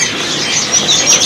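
Birds chirp at a bird kiosk, a dense bright twittering of several small birds close by, steady and busy throughout the short moment with no talk.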